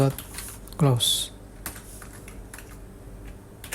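Keystrokes tap on a computer keyboard in scattered bursts while entering code into an Access database, fairly quiet and close, with a brief voice near the start.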